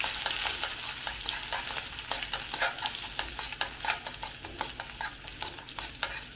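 Finely chopped ginger frying in a hot pan for a Kerala yogurt chili curry, a continuous close sizzle broken by repeated scraping stir strokes, with no talking.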